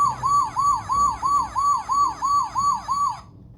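A toy siren with a flashing light wails in a rapid repeating rise-and-fall pattern, about nine loud, close, electronic whoops before cutting off abruptly.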